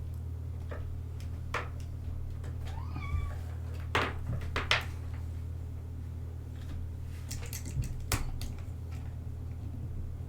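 A house cat gives a couple of short, quiet meows over a low steady hum, with scattered light ticks and knocks nearby and no talking.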